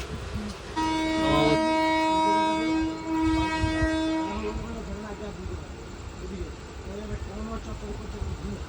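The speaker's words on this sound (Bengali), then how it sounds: "তো আমাদের ট্রেন এখন 2 মিনিট স্টপের পরে বোলপুর শান্তিনিকেতন ছেড়ে যাচ্ছে।" A passenger train pulls out of Bolpur Shantiniketan station, its horn blaring for about three seconds before fading into the steady rumble and rattle of the moving carriages.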